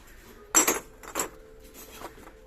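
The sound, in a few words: handling ceramic relief pot with bamboo lid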